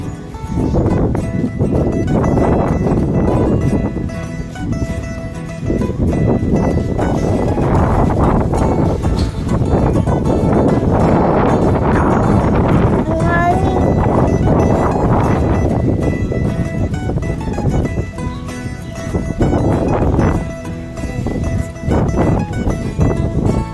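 Strong wind roars continuously against the microphone, buffeting loudly in heavy gusts throughout.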